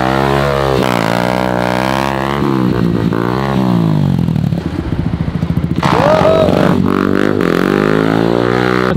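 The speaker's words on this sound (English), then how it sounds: "he's jumped on a motorbike and he's gonna do some wheelies for us" A motorbike revs hard and repeatedly while doing wheelies in an Argentine neighborhood, its engine note rising and falling in loud close surges with some clatter, plus brief voices near the end.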